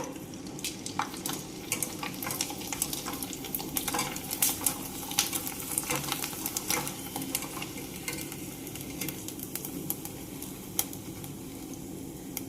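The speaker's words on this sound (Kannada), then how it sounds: "ಶಾಂಡ್ಗಿನ ಫ್ರೈ ಮಾಡ್ಕೊಂಡೆ ನಾನು" Onion sandige frying in hot oil, a steady dense sizzle with crackling bursts and occasional stirring and utensil clinks against the pan, close and continuous without any voices.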